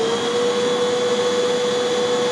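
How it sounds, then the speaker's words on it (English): A vacuum cleaner runs steadily off a portable power station, a loud continuous whine with a strong sustained tone that holds unchanged throughout, with no talk over it. "let me turn on the vacuum"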